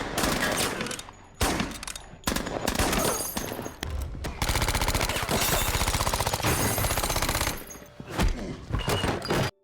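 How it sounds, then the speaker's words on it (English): A gang ambush in a mob shootout erupts into heavy gunfire, with loud bursts of machine-gun fire and rapid volleys of shots that come in dense clusters separated by brief gaps. "His men, hidden in the basement, stormed the floor, unleashing gunfire. Bullets flew everywhere."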